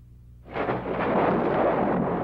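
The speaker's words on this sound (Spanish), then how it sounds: "Se acerca una tormenta." Thunder from an approaching mountain storm breaks in abruptly after a quiet moment, then rolls on as a heavy, sustained low rumble.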